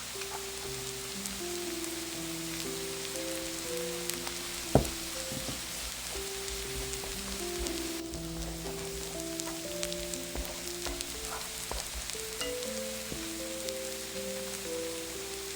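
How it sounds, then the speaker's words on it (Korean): Gochujang sauce stir-frying in a pan, a soft continuous sizzle with faint scraping and one sharp clink, fairly quiet and steady throughout. "짜장 볶듯이 볶아주세요."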